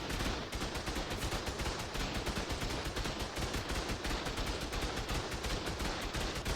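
Automatic turrets in Ark Survival Evolved fire in rapid, continuous bursts of dense gunfire with no gaps, steady and loud throughout.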